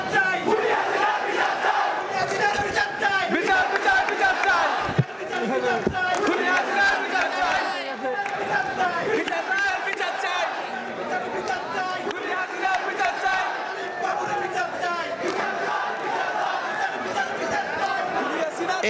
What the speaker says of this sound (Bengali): আমরা একটু যেই স্লোগান, সেই স্লোগানটা শুনতে চাই।